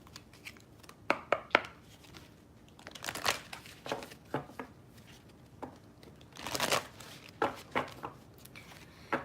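A deck of cards shuffled close by in bursts of riffling and flicking, with short pauses between passes; faint background noise underneath and no talking.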